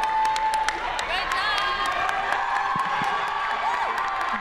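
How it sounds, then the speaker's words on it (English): A concert audience at a university singing competition applauds and cheers the contestants, with steady clapping, scattered whoops and crowd noise throughout, while a voice carries over the top. "Let's give all the contestants one more hand."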